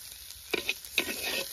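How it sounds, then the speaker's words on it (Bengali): Bheto greens fry in a pan in a village-style Bengali kitchen while being stirred, giving a soft sizzling hiss broken by a few brief scraping strokes, heard alone. "শাক ভাজা হয়ে গেছে, এবার নামাই দেবো।"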